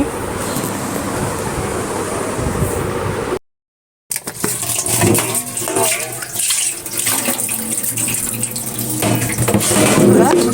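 Mixed leafy greens, spinach among them, are washed in water, with a steady rush of running and sloshing water that breaks off once for a moment and then carries on loudly.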